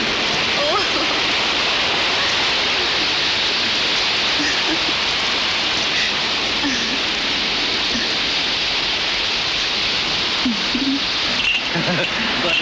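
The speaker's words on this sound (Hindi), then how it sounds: "अचानक बादल घिराए और मूसलाधार बारिश होने लगी।" Heavy monsoon downpour in rural village countryside, a loud, steady wash of rain noise filling the whole stretch without pause.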